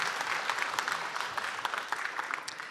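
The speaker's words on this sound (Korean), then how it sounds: "박수 다시 쳐주세요" Steady applause from a crowd at a town hall meeting with Gwangju and South Jeolla residents, dense and sustained for a few seconds, with no voices over it.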